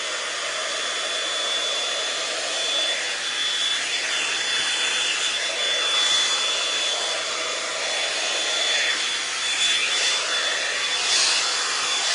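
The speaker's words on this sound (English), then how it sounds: "So it's a blow dryer, but it's also a round brush." A L'ange round-brush blow dryer runs continuously while drying and styling hair, a loud, steady, close-up whoosh of air with slight shifts in pitch as the brush moves.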